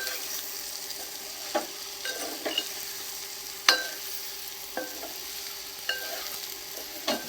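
Andhra-style chicken fry sizzles steadily in a pan while a spatula scrapes and stirs it every second or so, with sharp metallic taps close by and no voices.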